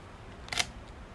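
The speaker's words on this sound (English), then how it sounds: "I'm manually telling the camera when to go ahead and press the shutter down" A single-lens reflex camera's shutter fires once outdoors in gusty wind while photographing the moon, giving a short, crisp mechanical click midway through an otherwise quiet, hissy background.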